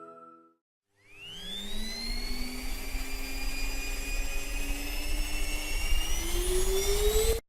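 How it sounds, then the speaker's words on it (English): A Roomba 980 robot vacuum starts up after a short pause, its motor whine rising steadily in pitch over a constant suction hum, close and growing louder toward the end. "For beautifully vacuumed floors every day, throughout your home, the Roomba 980, the power to change the way you clean."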